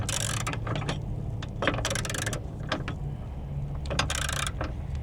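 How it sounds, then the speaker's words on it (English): A hand ratchet tightens the battery bracket bolts on a newer GMC or Chevy truck, fast metallic clicking in repeated bursts with short pauses between strokes, close and loud, no talking. "Let's just go ahead and tighten these bolts back up."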